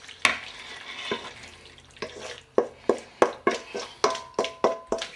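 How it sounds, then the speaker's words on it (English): Mac and cheese scraped from a pot into a baking pan, a series of about ten sharp, regular spoon knocks against the pan rim with soft wet slides between them. "Pour it into your baking pan."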